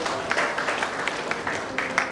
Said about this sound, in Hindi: एक बार तालियां आपके लिए बजनी चाहिए।